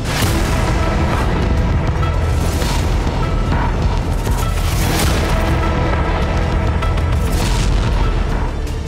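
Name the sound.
explosions and artillery fire in Ukraine war footage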